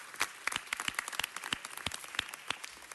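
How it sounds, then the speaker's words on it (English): Small audience at a city council meeting giving a round of applause: sparse, distinct individual claps in an irregular rhythm, fairly close, with no talk over them. "give a round of applause to the Filipinos and the Irish"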